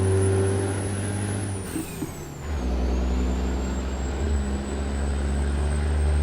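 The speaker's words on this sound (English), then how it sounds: "I do like the sound of this Caterpillar. I think it's a Caterpillar engine that we got in here. A 550 Caterpillar." A Caterpillar 550 truck engine in American Truck Simulator drones steadily at low pitch, with a sharp air-brake hiss and a dip in the engine note partway through before the rumble settles back to a constant, close drone.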